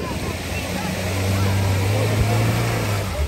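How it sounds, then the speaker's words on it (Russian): An off-road trophy-sprint racing car's engine drones and labours, unable to rev up, a steady loud low hum with wind and outdoor noise at a Krasnodar region off-road event. "Не раскручивает движок."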